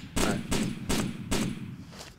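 Four loud gunshots from the video game DayZ Origins crack out at roughly even intervals, each with a short echoing tail.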